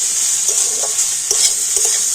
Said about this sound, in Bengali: একটু নাড়াচাড়া করে তো সুন্দর করে একটা পুর তৈরি করে নেব